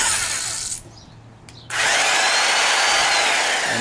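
Power drill spinning a ground-down, unbalanced bit, a loud close whine that cuts out briefly, then restarts at full speed and runs steadily with a wobbling edge.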